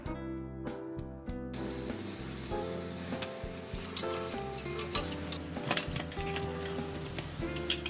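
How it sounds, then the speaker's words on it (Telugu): Washed crabs dropped into a hot pan of spiced oil for a crab curry: a sudden burst of loud sizzling and crackling that settles into a dense, steady frying hiss, with occasional stirring clatter and no talk. "ఇప్పుడు మనం వాష్ చేసి పెట్టుకున్న క్రాబ్స్ మొత్తం యాడ్ చేసుకోవాలి."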